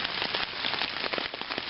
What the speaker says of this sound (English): You can see it dripping off the end of my rain tarp here.